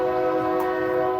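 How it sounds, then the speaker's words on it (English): A train horn blares outside a gym, a steady chord of stacked tones that stays loud and unbroken throughout, with no speech over it. "that train really sound loud when I'm out here"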